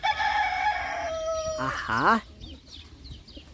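A rooster crows once, loud and close, among clucking chickens, while a voice briefly exclaims over the birds.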